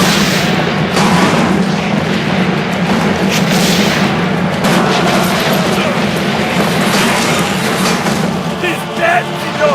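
Cannon fire in the Assassin's Creed Brotherhood video game, heard as a continuous loud barrage of booms and rumbling battle noise, with voices shouting over the din.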